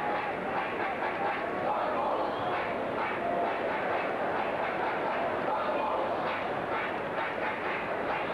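Sustained roar from supporters at a New York Cosmos against Cologne football match, a thick continuous wash of crowd cheering, steady in level, with faint shouts rising from within the din.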